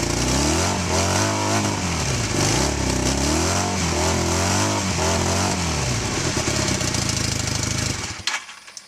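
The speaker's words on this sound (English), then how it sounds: "now we're going to rev it up a bit." A Honda motorcycle engine revs hard and steadily, its pitch rising and falling in repeated surges for about eight seconds before cutting off abruptly, loud and close with no talking.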